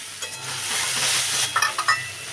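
A fried fish head is stirred and sautéed in a pan, giving a hissing sizzle under a few light scraping and clinking utensil strokes near the end, close and without speech.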